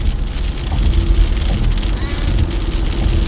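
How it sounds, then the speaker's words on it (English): Heavy rain pounds on a window, a loud, dense, unbroken patter and drumming that stays close and constant, with no clear speech over it. "It's going to be hard to hear with all the rain pounding on the window."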